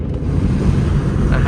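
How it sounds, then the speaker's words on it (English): Wind roars through the lowered window of a Mustang speeding down a highway in Mexico, a loud, steady broadband rush with low buffeting rumble filling the whole stretch. "I wonder what it sounds like if I put down the window."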